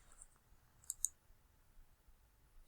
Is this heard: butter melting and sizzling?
no